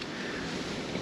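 Steady wind buffets a microphone on a riverbank during shore fishing, a dense, continuous roar that stays loud and even throughout with no voices.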